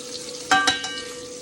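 A utensil scrapes the bottom of a sizzling pan of steak drippings with onion in the sauce. A few sharp scrapes cut through a steady close fry and hiss.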